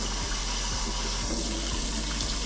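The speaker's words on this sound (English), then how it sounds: "So I'll fill up the kettle and I'll boil it." Tap water running into a kettle in a home kitchen, a continuous gushing splash with a faint rhythmic knocking beneath, close and steady throughout.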